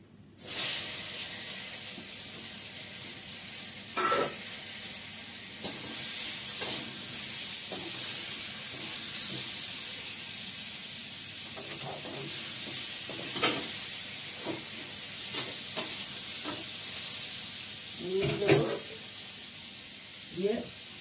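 Tomato sizzles in hot ghee with panch phoron for a chutney, a steady bright frying hiss broken by occasional stirring clinks and scrapes, while someone talks over the cooking.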